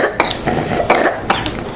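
A child coughs in several short, dry bursts, spaced irregularly over a couple of seconds, close and fairly loud with no talking.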